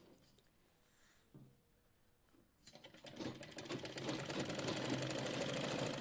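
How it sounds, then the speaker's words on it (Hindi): A sewing machine stitches straight seams along a kurta collar, starting faintly and then running as a steady, rapid mechanical chatter that grows louder and continues without pause. "ऐसे सीधी सिलाई लगा लेनी है।"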